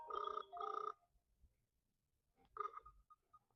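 An Awei smart watch rings with an incoming phone call: two quick electronic ring bursts, a pause, then a third shorter burst, fairly faint and clear with no talk over it.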